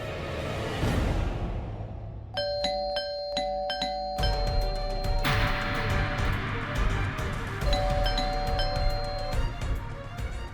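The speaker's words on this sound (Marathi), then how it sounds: "हो चावी आहे आपल्याकडे. कशाला बेल वाजवताय." A doorbell chimes in quick repeated ding-dong tones, pressed several times in a row over a busy background of indistinct noise.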